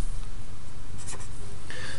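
Pen or marker writing out a math equation, soft scratchy strokes in short bursts, close and quiet, without talk.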